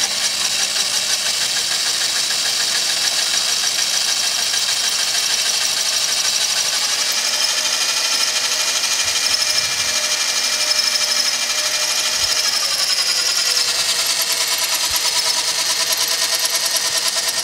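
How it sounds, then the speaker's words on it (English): Drill boring out exhaust manifold bolts on a 2000 Pontiac Montana with a 3.4L engine, a steady high-pitched whine running continuously and fairly loud at close range, with no talk over it. "Drilling at this angle is not fun."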